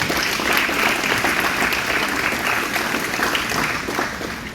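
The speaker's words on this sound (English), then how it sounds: "So one more round of applause for Coach." A crowd gives a coach a loud, sustained round of applause, many hands clapping densely and evenly before tapering slightly at the end.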